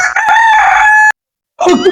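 A rooster crows loudly and close by in one long drawn-out call, then falls briefly silent before a second call begins, with no talk over it.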